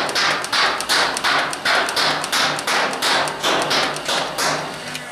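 A Nerf N-Strike Elite Rapidstrike CS-18 toy blaster fires in full auto, a loud close series of about eleven evenly spaced tapping thumps in quick succession, with no talk.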